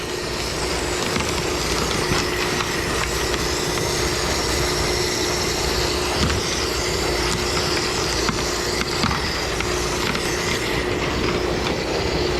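Rock tumblers running in the background, a constant loud rumbling churn of stones rolling inside drums, steady with faint rhythmic clacks and no pauses.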